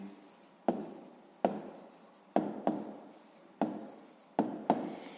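Pen strokes writing out a sixth-grade math answer, a series of distinct scratching bursts with sharp onsets that fade, about seven strokes in steady succession, close and alone.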